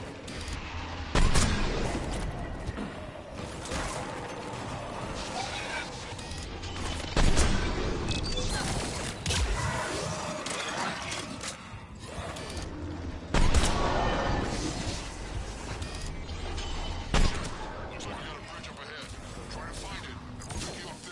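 Gunfire from a shootout in the video game Mass Effect 3: sporadic loud bursts of shots every few seconds cut through a dense, rumbling battle mix, with voices talking throughout.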